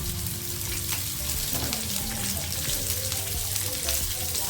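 Onion and green chili fry in a pan for an egg pasta sauce, giving a steady, moderately loud sizzle. It is even and continuous throughout, with light stirring noises and faint background hum.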